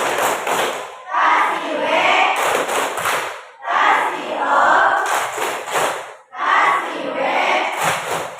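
Classroom of pupils answering a teacher's cue with rhythmic group clapping and chanted responses, loud bursts in three repeated phrases separated by brief pauses, with the teacher's voice calling between them.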